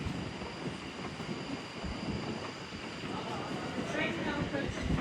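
A train passes through Clapham Junction station with a loud, continuous rumble and clatter close by, buffeted by wind noise on the microphone.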